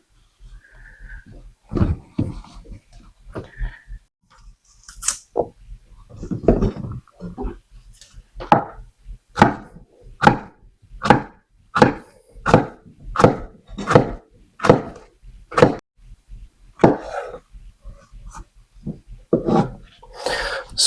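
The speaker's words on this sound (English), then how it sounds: "So here we're just rough chopping all the bananas." A knife rough-chops bananas on a cutting board, a steady series of close, sharp thuds with a few irregular knocks and pauses between runs.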